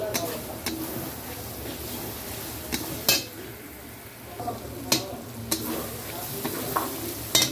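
Spice paste for a light fish curry sizzles in oil in a pan, with a steady frying hiss and sharp clinks and scrapes each time it is stirred.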